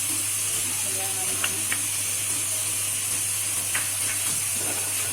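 Ginger garlic paste frying with tomatoes in a pan for aloo palak, giving a steady bright sizzle and hiss with a few faint clicks of stirring.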